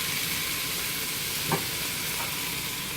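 Onions fry in a pan with a steady, bright hiss that holds evenly throughout, broken once by a soft stir or clink near the middle, heard close and without talk.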